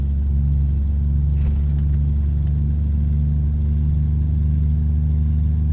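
A truck engine in American Truck Simulator drones with a deep, steady rumble, loud and unbroken throughout, with a few faint clicks near the start.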